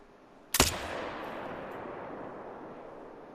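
A single AR-15 .223 rifle shot fired at a buck while hunting outdoors, one sharp, loud crack followed by a long rolling echo that fades slowly over the next few seconds.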